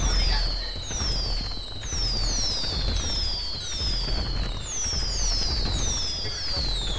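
Fireworks set off in Grand Theft Auto 5 fire as a continuous barrage. Repeated whistling streaks climb over dense crackling bangs and a low rumble, loud and steady for several seconds.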